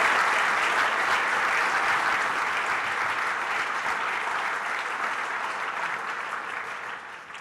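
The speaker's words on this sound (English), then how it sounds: "Let's give a huge round of applause for our sponsors" A large crowd claps steadily at an awards ceremony in a dense, continuous wash of applause that slowly tapers off toward the end.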